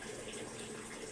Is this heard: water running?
yes